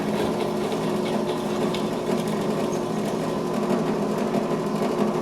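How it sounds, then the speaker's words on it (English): A steady mechanical whir with a constant hum runs unbroken throughout, loud and close, as a drill press drills holes in a metal go-kart crossbar. "I'm over at the drill press and I'm going to drill some holes in that crossbar"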